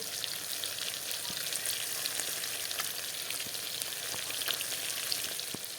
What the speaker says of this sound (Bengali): মাছগুলোকে লাল লাল করে ভেজে নেব